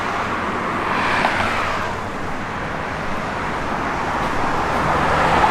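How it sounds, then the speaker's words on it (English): Heavy road traffic roars steadily from a nearby closed expressway, a dense continuous wash of passing cars and engines that stays loud and even throughout, with no talking over it. "the traffic's so heavy, they got the expressway closed down"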